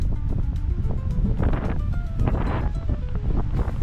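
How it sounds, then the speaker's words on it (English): Strong gusty wind of about 45 km/h buffets the microphone at a small fishing jetty in Chile, a loud steady roar with surging gusts and faint tonal whistles; no voices. "Terrible wind, like 45 kilometers per hour"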